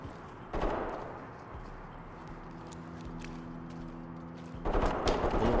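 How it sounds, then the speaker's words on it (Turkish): Bursts of gunfire in the game Ready or Not crack near the start and again at the end, with a steady low hum and rumble between them and no voices. "Bir silah sesi geldi ama nereden geldiğini çözem."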